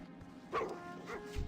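Neighbours' dogs give a couple of faint distant yips and a short whimpering bark over low background hum.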